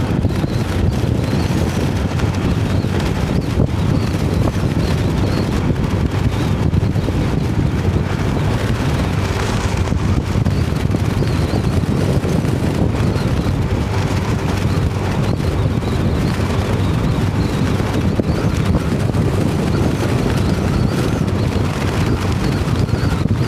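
Strong wind buffets the microphone outdoors in Pattaya with a constant, loud, roaring rumble that barely changes for the whole stretch, with no voices.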